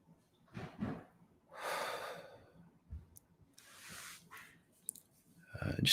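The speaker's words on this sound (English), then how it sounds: "Just take a deep breath in." A person drawing a deep breath in, a soft airy inhale with snorting nasal breathiness and a few quiet shifts around it, close and intimate with no speech.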